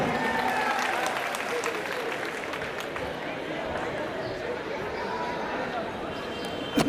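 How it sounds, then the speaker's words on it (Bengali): Sustained loud applause from an audience welcoming a new student at a college freshers' event, steady dense clapping with crowd noise throughout. "তাকে তোমরা জোরে একটি করতালি দিয়ে উৎসাহিত করো"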